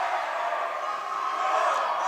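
Steady roar of a visiting crowd mixed with home cheerleaders at a high school boys basketball game, a dense continuous wash of voices during free throws.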